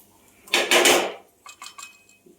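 Potato thecha scraped from a pan onto a plate: a couple of close, clattering metal scrapes and knocks, followed by lighter taps of utensil against dishware in a quiet kitchen.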